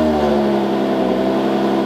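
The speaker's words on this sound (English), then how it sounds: "This is a cold startup stock exhaust." Cold start of a car on its stock exhaust, apparently a Koenigsegg supercar, with a loud, steady engine drone held close to the microphone for about two seconds and no talking.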